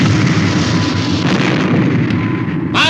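A loud weapon-firing explosion effect, a sustained roaring blast with rumbling low end that holds steady throughout, ending with a brief higher-pitched swell.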